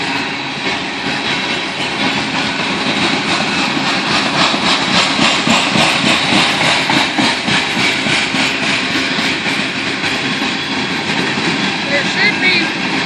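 A CSX grain train passes southbound as a loud, continuous rumble with rhythmic clatter of wagons rolling by close at hand, steady for the whole stretch, with a voice briefly heard.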